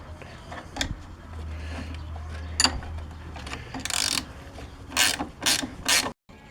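Ratchet clicks in short bursts while tightening the last bolt on a Polaris Sportsman ATV during bushing replacement, close and fairly loud, with mechanical clatter between and a brief gap near the end.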